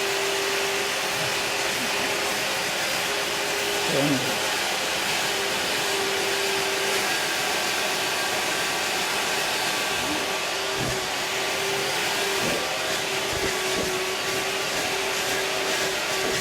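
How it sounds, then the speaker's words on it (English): A heated carpet and upholstery spot cleaning machine runs continuously on car mats with a loud, steady motor whine and suction roar, unchanging throughout. "this machine is really good for spot and stain removal"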